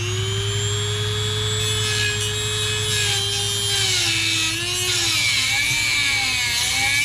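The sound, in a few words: small blade power tool cutting on husking bed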